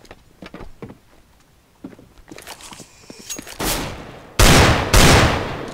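Gunfire in the shooter game CS:GO: scattered light shots and clicks build to a few loud, close bursts of automatic fire near the end, with no talking.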